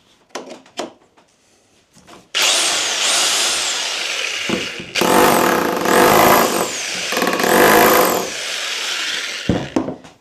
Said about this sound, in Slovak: Kladivo funguje, takto to má podľa mňa pracovať.